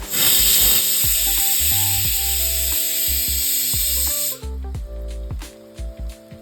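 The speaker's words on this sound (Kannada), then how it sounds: "ಸೊ ಬಿರಿಯಾನಿ 1 ವಿಜಿಲ್ ಆಗಿದೆ." A pressure cooker whistles while chicken donne biryani cooks: a loud, steady rush of hissing steam that lasts about four seconds and then cuts off abruptly, leaving the tonal background sounds beneath it.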